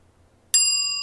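A single bright bell strikes once with a sharp metallic ding, then rings on with a clear sustained tone that lingers steadily, loud and alone against near silence.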